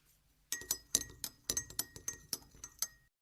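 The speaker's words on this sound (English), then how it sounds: "a hand stirring the water in the glass with a spoon" A metal spoon stirs water in a drinking glass, giving a close, bright run of about a dozen quick clinks against the glass in an uneven rhythm, with no voices.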